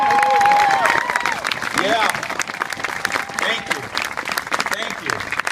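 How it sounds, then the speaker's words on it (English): Loud, dense applause fills a military graduation ceremony at Lackland Air Force Base as the crowd honors veterans, with cheers and voices mixed into the clapping. "I'd like for us to recognize them by a big round of applause"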